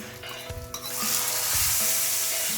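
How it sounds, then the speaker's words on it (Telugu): Tempering spices with dried red chilies and curry leaves hit hot oil for a lentil dal soup, a sudden loud sizzle that swells and holds steady, close by and without voices. "అందుకని తాలింపు వేస్తుంది."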